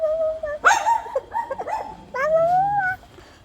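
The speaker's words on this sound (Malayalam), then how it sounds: "അവിടെ ഒരു പട്ടി കിടന്ന് കുരയ്ക്കുന്നുണ്ടായിരുന്നു." A dog makes a short run of close, high-pitched whining yips and whimpers, several separate cries with brief gaps, ending in a longer drawn-out whine.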